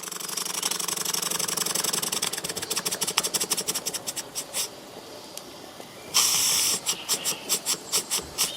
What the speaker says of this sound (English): the engine's going to start speeding up naturally as more steam makes its way to the engine